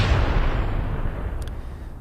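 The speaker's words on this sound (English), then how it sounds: "Let's give another explosion for the spoilers" Explosion sound effect: a loud, deep boom bursts at the start and rolls off into a long, fading rumble, heard alone without speech.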